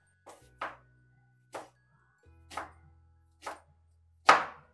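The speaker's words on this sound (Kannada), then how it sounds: "ಇವಾಗ ಈರುಳ್ಳಿ ಹೆಚ್ಚಾಗಿದೆ" A knife chops onions and green chillies on a board in a home kitchen: six crisp, separate chops at an uneven pace, close and clear against a quiet background.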